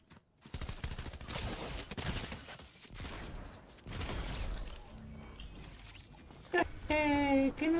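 Rapid bursts of gunfire in the Fortnite game during a Christmas festival event, with a loud dense volley up front, further shots and clatter, and a tonal game effect at the end.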